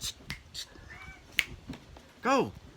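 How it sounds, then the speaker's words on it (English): Pet cats meowing indoors, a short rising-falling meow near the end after a few faint earlier cat sounds and clicks, close and fairly clear over a quiet room. "Sorry, my cats."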